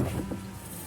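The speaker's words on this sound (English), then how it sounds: "I rolled the windows down to cool it off a little bit in here." Electric power windows of a car rolling down, a brief steady motor whir heard from inside the cabin at moderate level.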